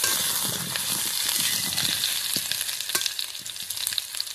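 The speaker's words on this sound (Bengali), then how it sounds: "এইভাবে লাল লাল করে ভেজে দিতে হবে, তাহলে ঝোলের আলুগুলো খেতে ভালো লাগবে।" Potato pieces frying in oil in a pan while being stirred, a steady close sizzle with scattered scraping clicks from the spoon, no talking.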